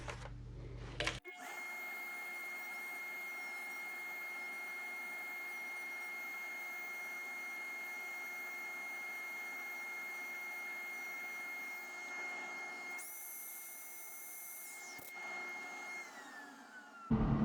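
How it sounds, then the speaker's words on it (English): A small 80-grit drum sander on a Dremel rotary tool whines at a steady high pitch while sanding off pencil marks on a turned wooden pet urn, continuous and close for most of the span, with a brief higher squeal near the end. "just a small little 80 grit drum sander that goes on my my Dremel tool"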